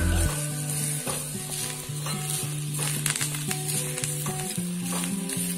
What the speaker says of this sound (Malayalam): ഇത് ഇതിന്റെ കൂടെ ചേർത്തിട്ട് നന്നായി വറുത്തെടുക്കാം.